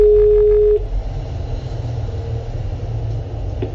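Telephone dial tone followed by faint dialing tones on a phone call, the steady tone cutting off after under a second and leaving low background rumble.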